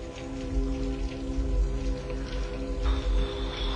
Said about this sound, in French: Ça fait 3 jours qu'il pleut.